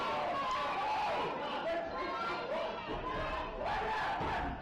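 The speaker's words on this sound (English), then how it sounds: "I think the crowd's calling for a wedgie. They want a wedgie." Wrestling crowd in an arena, a loud continuous roar of many voices chanting and shouting, steady throughout with rising swells.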